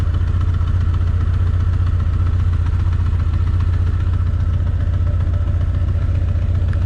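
A Honda CB 900 motorcycle engine idles at about 1,000 RPM, a steady low rumble with even, continuous pulsing that holds at the same loudness throughout, with no talking.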